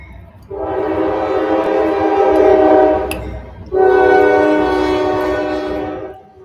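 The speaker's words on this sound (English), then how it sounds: "I got a train coming and like the windows open, like facing the tracks." A passing train sounds its horn, heard through an open window facing the tracks: two long, loud blasts with a short gap between them over a steady rumble of the rails.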